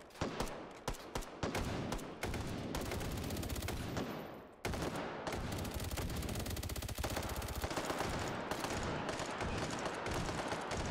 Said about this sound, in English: Stop shooting at me! Oh! Somebody wants to shoot at me.